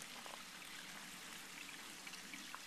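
A small river trickles and gurgles over stones, a faint continuous wash of running water with occasional brighter splashes, heard alone with no voices.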